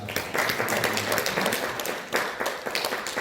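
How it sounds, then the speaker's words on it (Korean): Church congregation applauding together during a Sunday service, a dense, steady round of clapping throughout with a brief dip and renewed surge near the end. "기도의 박수 한번 하십시다"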